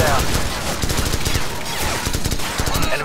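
Rapid automatic gunfire from a Call of Duty 4: Modern Warfare firefight, a dense fusillade of fast, loud shots rattling steadily throughout, with a voice faintly mixed in.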